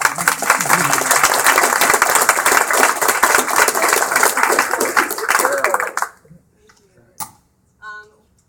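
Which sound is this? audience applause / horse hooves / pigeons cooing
audience applause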